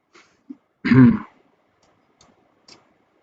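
A single rough throat-clearing cough sounds once in the background of an online call, surrounded by near silence and a few faint clicks.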